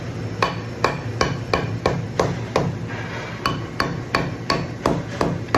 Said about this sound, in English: I like using the edge of the dead blow hammer because you can hear it hit the vise better.